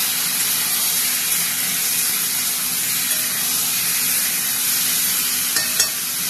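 Boiled tomato tipped into a hot pan of partly fried potatoes, sizzling and hissing steadily with a constant frying spray, the sputter close and loud and running on without talk.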